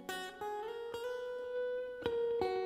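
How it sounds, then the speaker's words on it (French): Electric guitar fed straight into a computer with no outboard gear and shaped by Logic Pro effects for Congolese rumba and sebene, playing sustained harmonic notes with a few sharp plucked attacks, clear and alone. "Ça, c'est ma guitare qui va directement, il n'y a aucun traitement"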